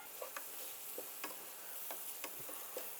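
Onions fry in a pan for kabsa, giving a faint, steady sizzle with light, scattered taps of a spoon stirring them.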